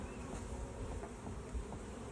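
A swarm of honeybees buzzes steadily, a dense droning hum with no pauses, close and moderately loud, with no one talking.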